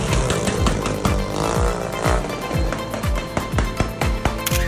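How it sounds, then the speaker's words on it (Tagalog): Noisy motorcycles rev loudly on a street during New Year in the Philippines, their engines throbbing in rapid, rhythmic pulses that sound close and continuous. "may mga maiingay din tayo ng mga motor tuwing New Year"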